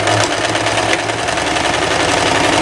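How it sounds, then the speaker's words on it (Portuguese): Overlock sewing machine stitching a seam along a shirt sleeve, running steadily and loudly up close with a continuous rapid mechanical chatter. "você vai passar uma costura reta aqui na manga e, ao mesmo tempo, passar na overlock"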